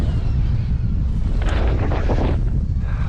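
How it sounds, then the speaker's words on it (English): Strong wind buffeting the microphone on an outdoor bike ride in England, a loud, continuous low rumble with gusty swells, growing harsher toward the middle. "Oh, very, very windy."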